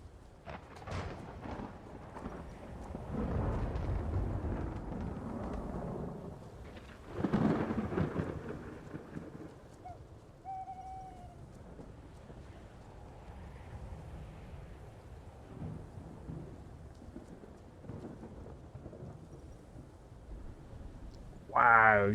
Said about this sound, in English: That's a thunderstorm.